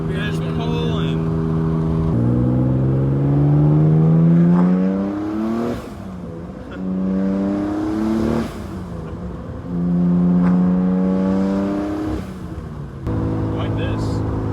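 A car's engine idles and revs repeatedly after a motor swap, loud and close, its pitch rising and falling in several long pulls with brief dips between them.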